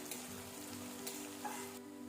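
Garlic fries with drumstick flowers in a pan, giving off a faint, even sizzle with a few soft crackles. The cooking sounds close but quiet, and no one talks.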